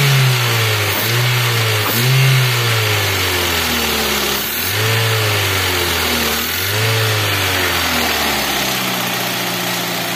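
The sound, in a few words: Toyota Avanza/Daihatsu Xenia engine revving during acceleration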